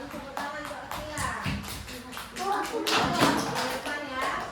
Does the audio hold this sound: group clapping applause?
yes